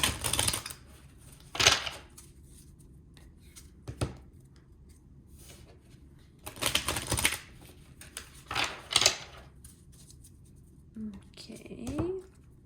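Tarot cards being shuffled and drawn from a deck, giving several sharp papery slaps and riffles at irregular intervals, close and fairly loud, with brief speech near the end.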